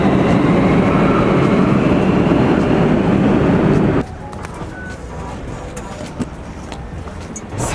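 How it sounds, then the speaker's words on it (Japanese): A Cairo metro subway train rumbles loudly along the tracks in a dense, roaring wash that drops abruptly to a quieter rattling hum partway through. "ちなみにカイロの地下鉄こんな感じです"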